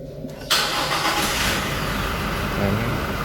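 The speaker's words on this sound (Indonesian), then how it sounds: "kita hidupin mesinnya dulu" A Toyota Innova Reborn diesel engine cranks and starts with a sudden loud catch, then settles into a steady, close, rattling diesel idle.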